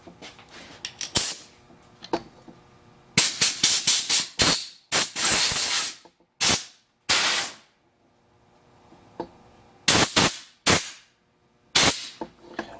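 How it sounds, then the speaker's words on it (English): Compressed air blasted through a part of a small steam engine during assembly, a series of loud sharp hissing bursts, some short and some sustained, separated by silent gaps. "You can take that out and give that a little shot of air."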